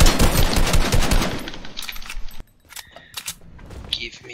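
Rapid automatic gunfire from a gun in a video game match rattles loudly up close in dense bursts for about two seconds, then gives way to quieter scattered game sounds.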